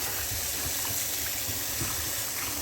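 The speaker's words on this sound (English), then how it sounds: "What I do love about this rice dispenser is I could actually wash my rice in the same jug." Water runs steadily into a rice dispenser jug as rice is washed inside it, a close, constant rushing stream with no talk.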